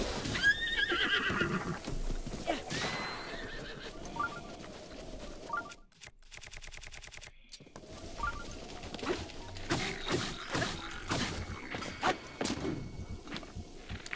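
A horse in Zelda: Breath of the Wild neighs and whinnies close by as hooves clop, with game ambience around it, a short stretch of near silence broken by a beeping tone, then more hoof and horse sounds.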